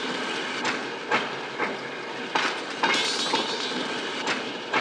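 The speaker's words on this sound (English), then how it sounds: "The rhythmic, metallic clink of the cart starts out realistic" A cart rolls along rails in a Tarkovsky film, giving off a steady rhythmic metallic clink and clack over a constant hissing rumble, with the clacks recurring at regular intervals and no voices.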